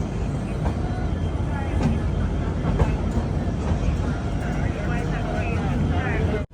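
The Saraighat Express pulls into New Jalpaiguri Junction station with a steady loud rumble and rattle from the wheels. A voice talks over the noise of the train.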